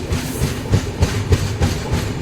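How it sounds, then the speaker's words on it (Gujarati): A very long Kochuveli Express passenger train passing close by, wheels beating a regular clickety-clack over rail joints with a loud rumble underneath, no voices. "મેં આવી ટ્રેન પહેલાં ક્યારેય જોઈ નથી એટલે મને એમ છું કે લાવો તમને પણ બતાવું ખૂબ જ લાંબી ટ્રેન છે"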